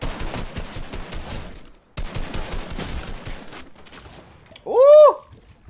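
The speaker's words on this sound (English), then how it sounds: "this is drum shotgun, bro" Drum shotgun firing in Fortnite Battle Royale, rapid repeated blasts in two bursts separated by a brief pause, followed by a sweeping whistle-like tone near the end.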